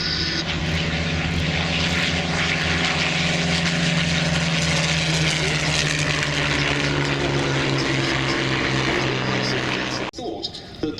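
Two Spanish-licensed Messerschmitt Bf 109 fighters take off at Duxford airfield: a loud, sustained piston-engine and propeller roar fills nearly the whole stretch, then drops away abruptly near the end.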